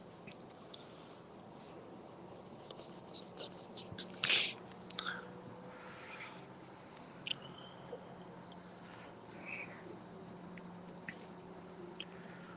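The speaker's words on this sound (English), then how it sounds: "I like the actual crickets I'm hearing in the background" Faint crickets chirp sparsely in the background of a quiet indoor room, with a brief louder rustle or click near the middle and a steady low hum throughout.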